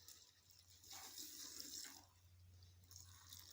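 Water from a sachet pours steadily onto snail feed, a close, continuous splashing trickle that swells and eases over a few seconds, with no speech.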